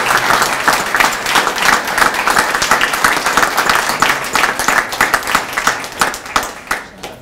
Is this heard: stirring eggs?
no